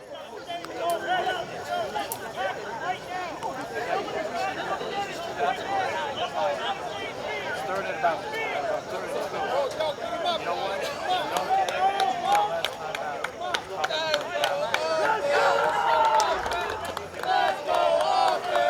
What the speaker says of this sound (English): Now you hear the Brick City sidelines cheering for their offense, looking to end this game